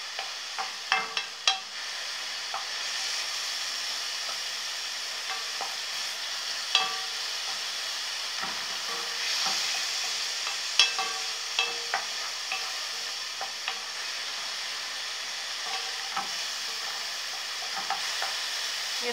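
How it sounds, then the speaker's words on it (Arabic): Onions sautéing in a pan for Egyptian mahshi stuffing, with a steady soft sizzle and intermittent clinks and scrapes of stirring, quiet and close, no voices. "يدوب بس ايه يديها تشويحة كده، لغاية لونها ما يبدأ يبقى اللون الذهبي"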